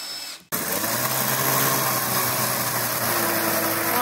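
A power tool trims the roof overhang on a wooden hunting blind. It starts abruptly after a brief quiet moment and then runs as a steady, loud, close whine with no talking.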